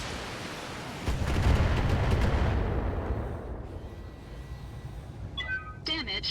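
Explosions and artillery fire in the Battletech video game: heavy booming blasts merge into a loud rolling rumble that gradually fades, followed by a few short, sharp electronic chirps.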